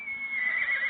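A horse gives a brief, high whinny, close and clear.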